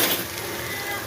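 Garlic, ginger and green chili paste fries with golden onions in hot oil, giving a soft, steady sizzle that carries on evenly without pause.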